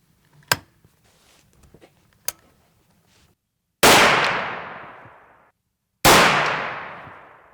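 Two loud, sharp rifle shots from a 400 Legend ring out a couple of seconds apart outdoors, each with a long decaying echo, after a few faint clicks and handling noises.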